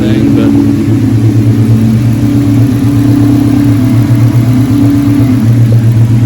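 A Ford Coyote V8 swapped car engine idles with a deep, steady exhaust rumble close by, holding an even pitch throughout without any clear revving.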